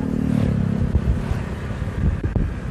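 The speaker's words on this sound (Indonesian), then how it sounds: "soalnya motornya agak berisik" A motorcycle engine drones nearby outdoors with a low, steady mechanical rumble that shifts as it passes, mixed with some wind noise on the microphone.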